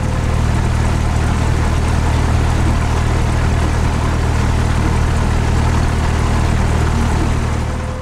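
A Cessna 172 piston engine runs after start, a loud, steady, close drone with a constant low throb and even roar that holds unchanged throughout, with no talking.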